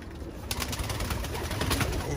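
Pigeons being bred cooing softly at close range, a few low throaty coos over a hissy background, quiet and without talk.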